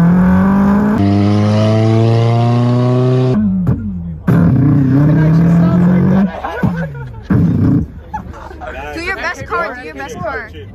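A Toyota Supra MK4 engine revs hard at a rooftop car meet in Beverly Hills, rising and falling in long, loud pulls, with a crowd chattering and shouting around it.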